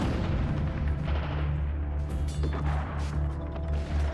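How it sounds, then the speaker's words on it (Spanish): Soviet artillery shells and rockets falling at the gates of Berlin, heard as a sustained roar of continuous low rumbling and booming with scattered sharp cracks and crashes, loud and dense throughout. "Podían oír los proyectiles de la artillería soviética y los cohetes cayendo."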